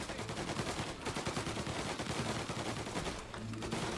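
Rapid bursts of gunfire in the game Mafia: Definitive Edition, loud and continuous, with some echoing reports.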